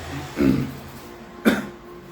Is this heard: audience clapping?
no